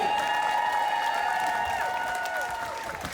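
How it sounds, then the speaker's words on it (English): A crowd on a ship's pool deck applauds during a Neptune's Domain ceremony, with steady clapping and cheering spread through the whole moment over sustained tonal music-like hums. "Sheena, some applause for Sheena, everybody."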